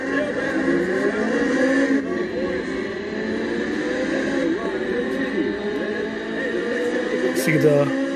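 Engine drone from a Sega Naomi arcade racing game in a Dreamcast arcade cabinet, a steady loud car engine whose revs rise and fall continuously for several seconds.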